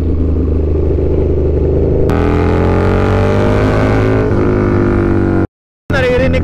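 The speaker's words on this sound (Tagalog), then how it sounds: "Naririnig ko yung exhaust ko dyan sa kardo mo ah" KTM Superduke motorcycle exhaust roaring while riding on a highway, a loud steady engine drone that shifts pitch as it revs, cutting briefly to silence near the end before resuming.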